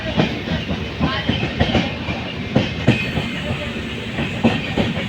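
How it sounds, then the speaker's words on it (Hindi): An Indian Army train rolls past on the railway near Pokhran in Rajasthan, its wheels clattering over the rail joints in a steady, loud rhythm of clicks and thumps, with no voices. "अपनी इंडियन आर्मी नी ट्रेन है, खूब सरस।"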